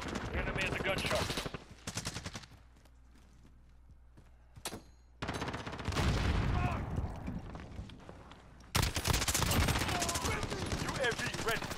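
Bursts of automatic gunfire from the video game Call of Duty: Modern Warfare, loud, dense rattling volleys with a quieter gap in the middle, under occasional game voice callouts.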